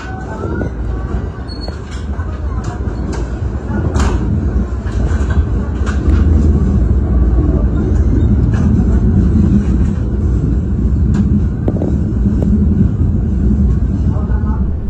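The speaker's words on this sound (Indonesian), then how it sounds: "jadi sekarang ini perjalanan kereta api Mutiara Selatan sudah diberangkatkan dari stasiun Surabaya Gubeng" The Mutiara Selatan passenger train rumbles and rattles steadily as it pulls away from Surabaya Gubeng station, with clanking wheel noise and a voice speaking over the heavy rolling din.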